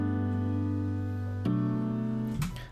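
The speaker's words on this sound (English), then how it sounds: "The only thing that is here is a Labs piano." Soft sustained chords on a Labs piano, two long held chords in succession with the top note ringing through, followed by a brief noisy rustle at the end.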